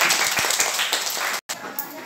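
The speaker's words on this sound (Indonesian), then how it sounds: "beri tepuk tangan untuk kelompok 1" Children in a classroom clap for a presenting group, a dense, steady patter of many hands that fills the room, briefly cutting out for a moment before resuming.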